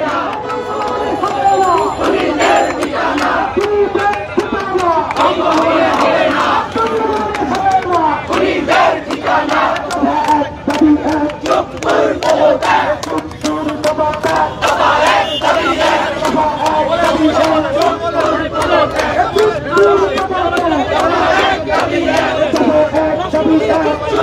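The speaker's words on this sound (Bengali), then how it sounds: "তারা স্লোগান দিচ্ছেন রাষ্ট্রপতি পদত্যাগের দাবি নিয়েই" A large protest crowd chants slogans in unison, demanding the president's resignation, steady, loud and continuous, with rhythmic shouted phrases over general crowd noise.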